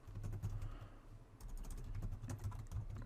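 Quick, soft clicking keystrokes on a computer keyboard, typing steadily in two bursts separated by a brief pause, faint and close.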